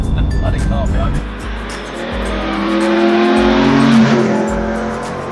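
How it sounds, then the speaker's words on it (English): A car driving past close behind a person on a roadside, its engine rising then falling as it goes by, loud and near, with speech over it. "Bloody car behind me."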